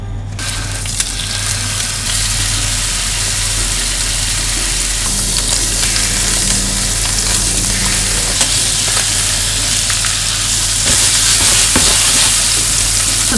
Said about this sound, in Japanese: 豆腐焼いていきましょう。